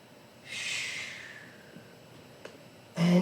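Breathing sound of a person inhaling during a Pilates mat class: a soft, airy intake swelling near the start and fading over about a second, then a short louder breath burst at the end, close and alone.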